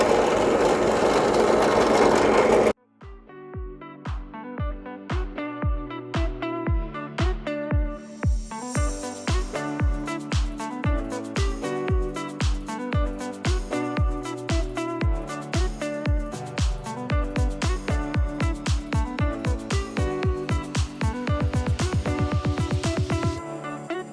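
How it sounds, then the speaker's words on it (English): A power drill bores holes into a thin wooden jack plate for a guitar output jack replacement, running in a steady series of short bursts, each one a rising whine followed by a brief pause, close and loud after a noisy opening. "So let's go ahead and drill these holes first."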